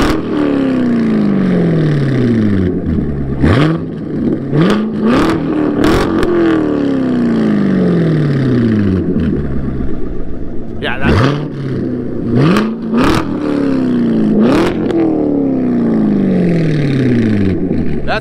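Chevrolet C7 Corvette Grand Sport with an AWE exhaust revving hard, repeated loud blips that climb and fall back, with sharp crackles between pulls and a deep rumbling tone throughout.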